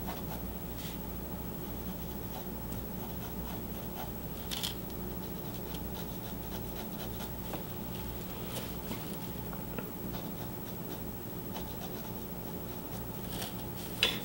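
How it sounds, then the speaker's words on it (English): Graphite from a mechanical pencil scratches and rubs across paper in short, light strokes, picking out highlights in the fur of a pet portrait; soft, close, steady scratching with no voices. "I'm gonna take my mechanical pencil and go in there and again accent these highlighted area."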